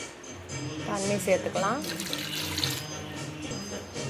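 Tap water runs and splashes into a metal pressure cooker holding jackfruit for several seconds, close up, with a voice speaking briefly over it.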